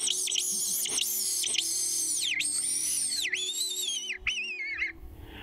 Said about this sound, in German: Das ist der Vogelangstruf mit drei Öffnungen